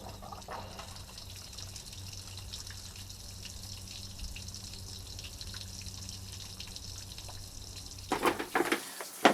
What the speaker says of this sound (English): Alright, so I got the water running.